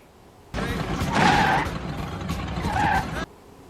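A loaner car pulls up with its tires skidding, a loud, close screech that swells twice across roughly three seconds, then cuts off abruptly.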